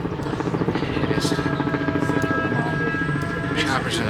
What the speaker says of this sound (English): Choppers on the top.